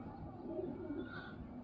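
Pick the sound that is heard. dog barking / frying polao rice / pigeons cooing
pigeons cooing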